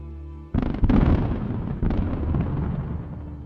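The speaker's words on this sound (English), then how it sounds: "The vehicle begins to detonate and burn fiercely." Missile strike on a military vehicle in a convoy: a sudden heavy blast after a low rumble, a second burst moments later, then sustained roaring and crackling as the vehicle detonates and burns, loud and booming.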